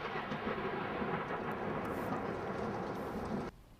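Deep, continuous rumbling thunder from a severe summer lightning storm over the Colorado Rockies rolls loud and sustained for several seconds, then cuts off abruptly.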